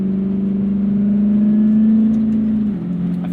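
A 1994 Corvette C4 with the LT1 engine, heard while driving, holds a steady, loud mid-pitched hum that rises slightly in pitch, then drops near the end as the load changes.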